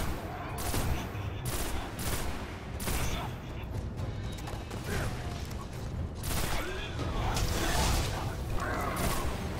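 Sniper rifle fire in the Destiny video game, with repeated sharp shots and their tails ringing out over dense game sound effects and background noise across the whole stretch.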